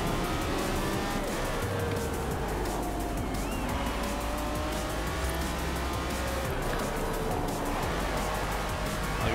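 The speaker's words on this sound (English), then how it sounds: "the engine of the Countach is just so good" A Lamborghini Countach engine in the racing game Forza Horizon 4 roars continuously and loudly at high revs, with shifting pitch and occasional tire squeal throughout.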